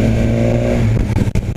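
A BMW S1000 R motorcycle engine held at steady revs, then the throttle snaps shut and the exhaust crackles and pops in a short, uneven burst close by.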